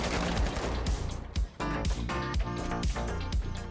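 Rapid automatic gunfire in the shooter game The Finals: a dense burst of shots, then several short, evenly spaced volleys with brief pauses between them, loud and close with no talking.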